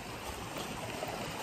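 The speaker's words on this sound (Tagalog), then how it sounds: "Tatabok na kami dito sa sapa. Yung sapa nila dito ay napakatinaw." A clear, sandy mountain stream in Tingkulan, Bagocboc runs with a steady, soft rushing flow, faint and continuous, with no one talking.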